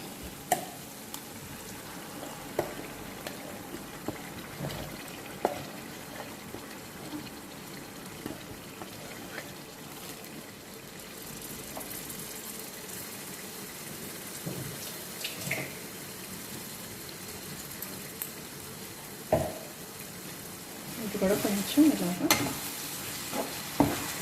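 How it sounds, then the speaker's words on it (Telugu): A mint and coriander paste for pudina rice fries in a pan with a faint, steady sizzle, broken by soft scrapes and taps of a spoon stirring it. "ఫ్రై అవ్వనిద్దాం కొంచెం సేపు"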